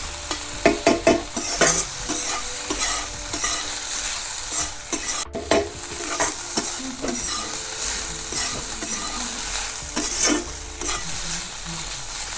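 Wild greens being stirred in a frying pan, a steady sizzle with repeated scraping strokes of a spoon against the pan, close and fairly loud, with no talking.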